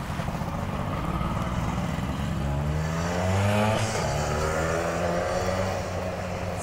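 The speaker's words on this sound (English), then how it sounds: "It was like a quad, but it had only three wheels." A three-wheeled, quad-like motor vehicle drives past, its engine droning steadily and swelling louder midway as it comes closest before easing off again.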